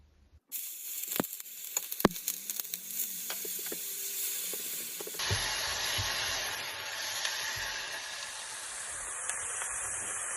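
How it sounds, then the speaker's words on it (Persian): Grated onion hits hot oil in a pan, opening with a few sharp crackles and then settling into a steady, bright hiss of frying that carries on unbroken. "یه مقدار روغن می‌ریزم داخلش و پیازی که رنده کرده بودم رو میخوام سرخش کنم"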